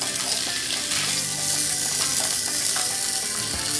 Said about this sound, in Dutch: De worst gaat in de pan.